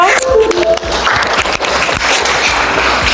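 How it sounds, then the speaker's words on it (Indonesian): A classroom full of students claps loudly and continuously, a dense crackling burst of applause close by. "Tepuk tangan buat kelompok 2."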